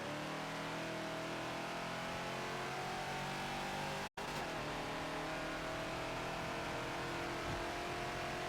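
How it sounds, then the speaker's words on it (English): A Ford Falcon XB race car in Forza at Homestead Road Circuit, its engine droning loud and steady under acceleration, cutting out abruptly for an instant midway before roaring on, with no talking. "That was a missed downshift."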